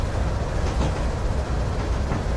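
A train rolls along the track in the early morning at a rail interchange, a steady rumbling drone with faint clickety-clack, heard from on board and close, no talking.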